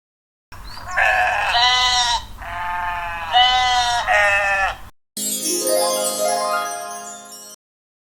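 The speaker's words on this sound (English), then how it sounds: "Number 7 is sheep. It makes baa sound." Sheep bleating with repeated harmonic baa calls, a few loud cries close by, then a longer wavering bleat after a short gap, heard alone with no talk.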